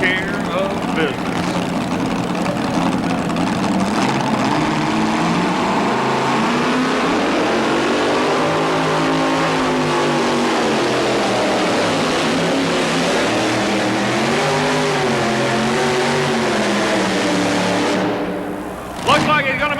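A pulling tractor at a 1987 tractor and truck pull in Louisville, Kentucky revs hard under load, its loud engine drone rising and falling steadily for about eighteen seconds before cutting off abruptly at the end.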